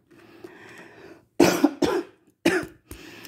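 A few sharp, close coughs in quick bursts, preceded by a brief quiet throat sound, with silence between them.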